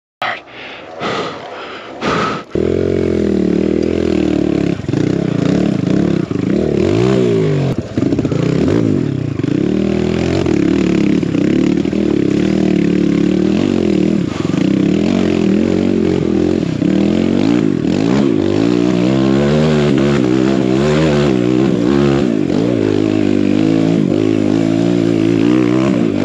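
A built Kawasaki KLX140 dirt bike climbs a rough extreme enduro hill, its small engine revving hard and continuously close up for about twenty seconds, pitch rising and falling with throttle blips after a brief start.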